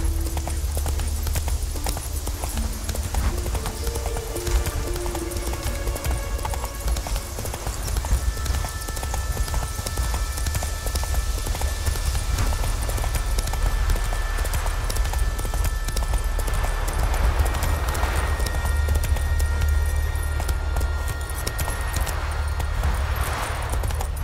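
Steady rhythmic hoofbeats of the horse Roach galloping in The Witcher 3 on Skellige, a continuous loud clip-clop under game music and ambience.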